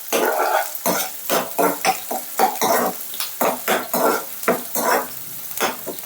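Sliced onion and green chillies stirred through hot oil in a pan with cinnamon and cloves for a chicken gojju. A close, busy fry sounds in repeated scraping bursts as a spatula works the pan, with no talk.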